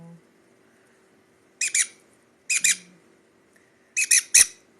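A baby sun conure gives three bursts of sharp, raspy squawks, each a quick double or triple call, loud and close in a quiet room, with a faint voice murmuring briefly.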